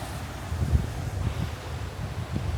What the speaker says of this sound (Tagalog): Medyo malakas yung alon ngayon.